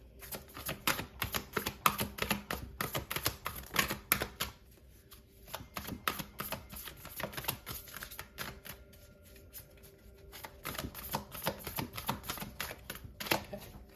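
Tarot cards are shuffled in rapid, crisp riffling bursts, clattering continuously with brief pauses between rounds.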